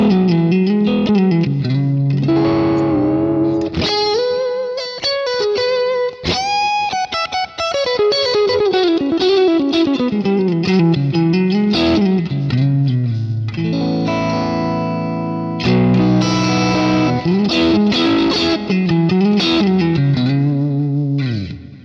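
Electric guitar through a Kemper MK2 Klon-style drive pushing the amp's front end, playing loud, continuous, lightly overdriven lead lines and chords with bends and ringing sustain, close and full.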